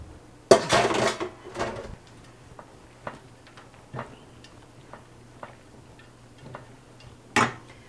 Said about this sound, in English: you're going to add the bacon back into the pasta